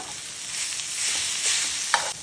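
Close, steady sizzling hiss of a paneer filling heating on a tawa griddle, with a faint scrape or two and a small tap near the end.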